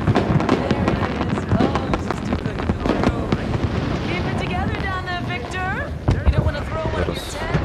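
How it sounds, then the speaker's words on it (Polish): Fireworks go off in the video game Hitman as a dense run of loud pops and crackles, with whistling rockets climbing partway through. A person talks over the display. "Jest pokaz fajerwerków"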